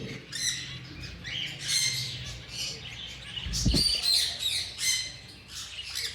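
A breeding pair of king-size white zebra finches chirps and squawks in quick, nasal bursts, fairly close and repeated throughout, with a brief thump midway and no talking.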